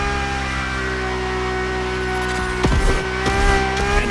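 A Ferrari supercar's engine in The Crew Motorfest holds a steady, strong, harmonic drone, then faint tire or skid noises come through near the end.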